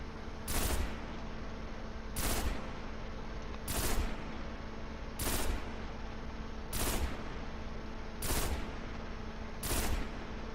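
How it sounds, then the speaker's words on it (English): Pulse rifle fire in Destiny, a video game: seven evenly spaced bursts, each a quick cluster of shots, paced slowly about every 1.5 seconds over a steady background hum, with no talking. "that was a set of shots while slowing it down instead of firing as fast as possible"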